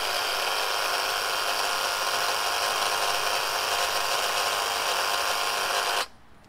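A Graco TrueCoat 360 single speed paint sprayer pump runs while priming and purging air, a loud, steady high-pitched electric motor whine close by that cuts off abruptly near the end.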